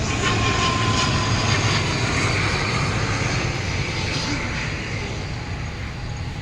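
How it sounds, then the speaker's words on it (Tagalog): An airplane passes overhead near a rose garden in Taipei, its engine roar loud and steady before slowly fading. "So ayan, may aeroplano."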